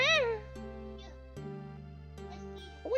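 Repeated meows from a cartoon-style cat character in a Sonic the Hedgehog fan game, several short mewing calls spaced out over steady music, loud and close.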